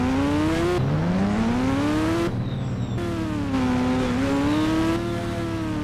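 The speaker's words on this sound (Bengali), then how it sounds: "আজকে মোটর সাইকেল নিয়ে যাব" A motorcycle engine rides toward an airport, revving and climbing through gear changes with a brief drop between shifts. The drone stays close, loud and continuous throughout.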